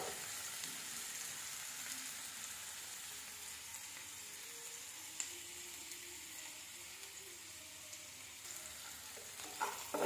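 Onions and dried and fresh chilies fry in a pan with a steady, fairly quiet sizzle and stir throughout, a few small clicks near the end, no voices.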